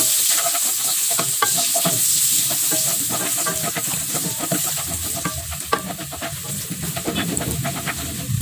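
Sliced galangal frying in hot oil in a pan, a steady, close sizzle with bursts of crackle and occasional stirring scrapes throughout, no talking.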